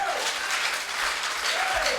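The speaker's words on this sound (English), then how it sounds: "Let's give them a round of applause." Crowd applause for Volta Senior High Technical School at a regional science quiz qualifier, a loud, sustained roar of clapping with brief voice fragments rising through it.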